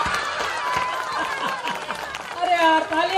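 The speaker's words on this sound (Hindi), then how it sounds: "अरे यार तालियां, गजब गजब गजब।" An audience at a Hindi comedy poetry show breaks into scattered applause and crowd noise that swells toward the end under a performer's voice.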